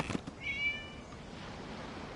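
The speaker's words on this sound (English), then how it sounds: "It was just a cat." A short game cat meow in Genshin Impact, a single high, thin cry rising briefly and then fading, followed by quiet ambient background with no talk.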